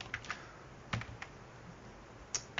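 Fingers typing a web address on a computer keyboard: a few quiet, scattered key clicks, sparse and irregular rather than a steady stream, close and soft in a quiet room.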